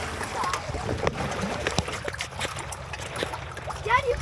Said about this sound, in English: With all this splishy splashy noises